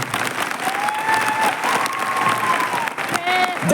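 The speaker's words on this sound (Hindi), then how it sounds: "मैं चाहूंगा ये महान गुरु के लिए ताली होना चाहिए" Sustained applause from a big crowd at a Safe Shop motivational event, continuous clapping at a steady loud level with some background voices and a hint of cheering.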